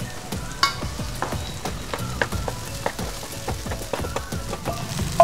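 A masala of onion and coconut with garam masala powder, turmeric, homemade red chilli powder and a few curry leaves crackles as it roasts in a pan, with repeated close scraping strokes of a spatula over a steady sizzle.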